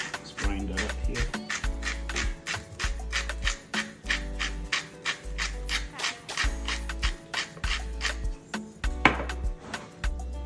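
Salt crystals being ground by hand while making unleavened flatbread, a steady run of rhythmic scraping, rubbing strokes close up, with low thumps beneath and no talking.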